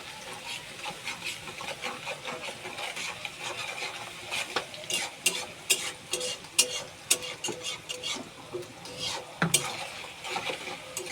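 Onions and salt are stirred in a pan over a low frying sizzle, with a spoon scraping and clacking against the metal in irregular close knocks and scrapes throughout.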